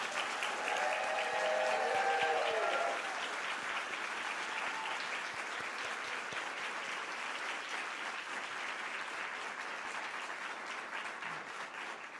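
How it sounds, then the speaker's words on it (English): Ceremony audience honoring state principals of the year gives a long, steady round of applause, a full crowd clapping evenly throughout, with a brief voice briefly heard near the start. "Let's give a warm round of applause to the 2026 North Carolina Principals of the Year."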